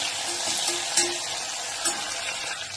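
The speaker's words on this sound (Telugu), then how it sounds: "ప్యాన్లో నూనె వేడెక్కిన తర్వాత జీలకర్ర ఆవాలు, కాస్త ఉల్లిపాయ ముక్కలు, టమాటా ముక్కలు, పచ్చిమిర్చి." Cumin, mustard seeds, onion, tomato and green chilli fry in hot oil in a pan, a steady close sizzle with a couple of light clinks and stirring scrapes, moderately loud, without talking.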